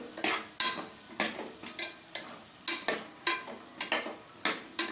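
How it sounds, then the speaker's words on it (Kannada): Stirring masala paste in a pot for raw banana pulao, a spoon or hand scraping and clinking against the metal in a regular rhythm of repeated close strokes, with no talking. "ಒಮ್ಮೆ ಕೈ ಆಡಿಸೋಣ, ಎಲ್ಲ ಉಳ್ಕೊಳ್ಳೋ ರೀತಿ"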